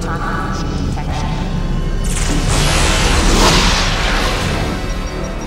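A warning shot fired at a ship in a Men in Black film booms out as a loud, sustained blast with a rushing whoosh, swelling to a peak and fading over several seconds, close and dense.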